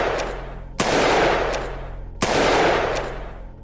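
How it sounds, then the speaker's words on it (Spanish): Sharp gunshots crack out with echoing tails and a rumbling background, fairly loud and up close, with fainter pops in between. "un hombre se le acercó por la espalda y le hizo 3 disparos"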